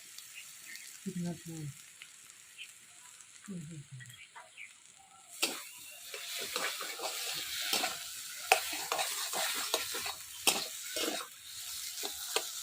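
Spices frying in a pan with paneer added, stirred with a utensil; a soft sizzle and repeated scraping stir strokes grow louder after a quiet start with brief speech.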